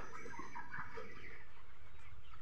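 Chickens on a small poultry farm cluck and murmur close by in a continuous chorus, with soft overlapping calls over a constant background hiss and no talk.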